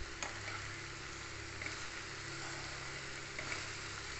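Sliced okra frying slowly in oil over a low flame gives a soft, steady sizzle with a low hum underneath and a few faint clicks, quiet and with no voices.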